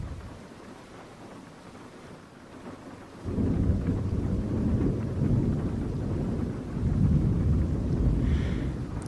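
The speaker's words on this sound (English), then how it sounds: "for the time being, it just means waiting out this storm and all" A thunderstorm on an island pours steady rain under low, rolling thunder that surges suddenly louder a third of the way in and stays heavy and close, with no talking.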